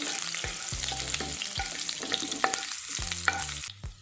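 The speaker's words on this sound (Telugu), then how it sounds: "రెండింటిని కొంచెం లైట్గా వేయించుకోవాలి అదేవిధంగా కట్ చేసుకున్న ఒక రెండు పచ్చిమిరపకాయలను వేసుకోవాలి" Green chillies fry in a pan for an aloo peas curry. A close, steady sizzle plays under repeated quick scraping stirs, and the sizzle drops away just before the end.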